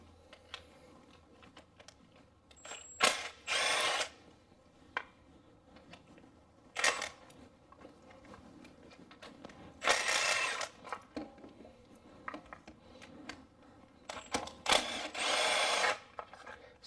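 Short bursts from a power tool spinning out 10 mm bolts on an Acura, several separate whirring runs of a second or so each with quiet pauses between and small clicks of handling, no talking.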